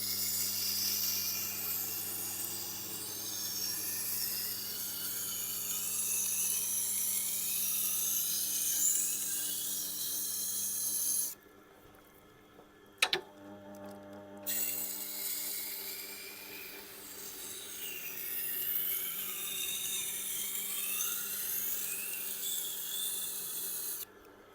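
A Miyabi santoku knife is smoothed on a Tormek 320 grit stone, giving a continuous hissing, scraping grind over a low motor hum, broken by a brief quieter pause and a sharp click before the grinding resumes.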